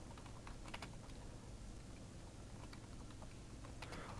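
Steady, continuous clatter of computer keyboard keys as code is typed, close and fairly quiet over a constant background hum, with no talking.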